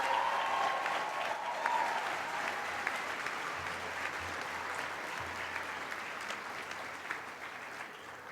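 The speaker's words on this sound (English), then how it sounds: "Let's give these PA students another round of applause." Audience at a College of Health Professions white coat ceremony applauding physician assistant students, a steady wash of many hands clapping that holds throughout and slowly tapers in loudness.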